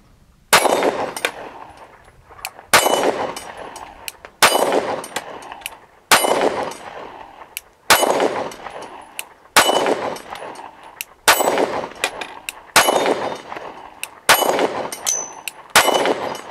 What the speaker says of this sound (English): Freedom's got a nice ring to it and a little bit of recoil too.